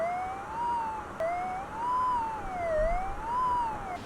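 A metal detector signalling over a buried iron target on a riverbank, a warbling electronic tone that slowly rises and falls in repeated sweeps, steady and fairly loud over faint water and background noise.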